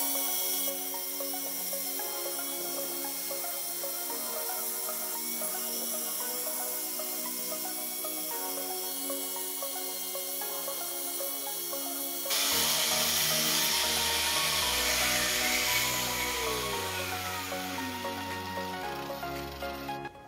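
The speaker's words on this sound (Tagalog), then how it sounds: "Gagamit ako ng grinder" Power grinder sanding a coconut husk for a coco bonsai, a continuous close whining motor drone that turns rougher and louder partway through as the abrasive bites harder.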